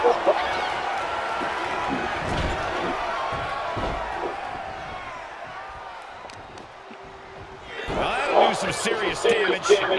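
Roaring wrestling arena crowd in the video game WWE 2K24 during a Shawn Michaels versus Honky Tonk Man match, a continuous cheering wash with a louder surge near the end, under steady commentary.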